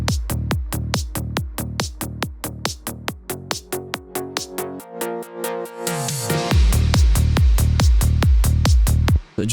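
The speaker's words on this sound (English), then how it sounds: "I'm just automating the filter up so that in context sounds like this" A pulsing synth track in Ableton, sidechained through Kickstart, runs under a steady four-on-the-floor beat. A filter sweep opens it up into a brighter, sustained swell, then the full beat drops back in louder, alone with no voices.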